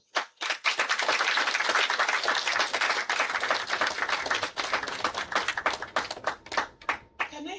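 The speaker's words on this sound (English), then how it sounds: "please join me in applauding" Audience applause at a Soroptimist International club charter ceremony in Takoradi, with dense clapping that swells at once, holds steady and loud, then breaks into scattered, tapering claps.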